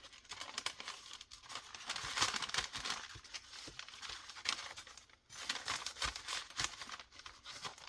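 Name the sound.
scrap paper being crumpled and thrown out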